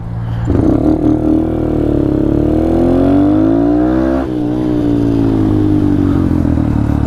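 A Honda Grom motorcycle revs hard for wheelies, its small single-cylinder engine climbing in pitch through one long pull, easing briefly, then picking up again loud and close, with no talk over it.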